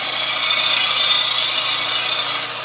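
A belt sander bevels an edge held at about 45 degrees to the belt, giving a loud, steady, high-pitched whirring grind with no break and no talking.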